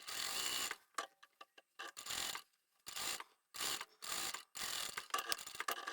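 A home sewing machine stitches a folded narrow fabric strip closed, running in short separate bursts of rapid mechanical ticking with brief pauses between them, close and fairly loud, with no talking.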